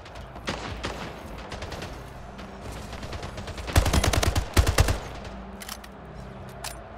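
Assault rifle fire in the shooter Splitgate, scattered short bursts and single shots building to two loud rapid bursts near the middle, then a few trailing shots at a moderate distance.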